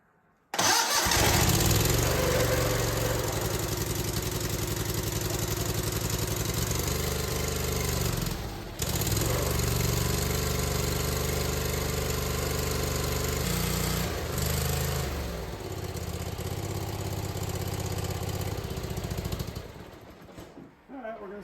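The engine of a 1997 Simplicity Sovereign lawn tractor starts on choke and settles into a steady, loud idle up close, with slight changes as the throttle is adjusted.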